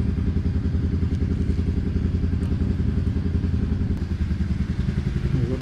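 A motorcycle engine idles loudly and steadily nearby, its rapid low pulsing rumble constant from start to finish.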